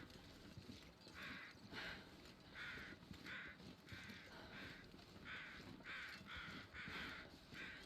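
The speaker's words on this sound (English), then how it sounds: "Again, corpse crows." Corpse crows caw repeatedly in The Long Dark, a series of rhythmic, moderately distant calls over a quiet wilderness background.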